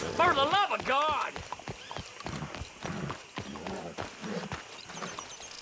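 A horse in Red Dead Redemption 2 whinnies loudly, then its hooves clip-clop in an irregular rhythm nearby while someone talks over it.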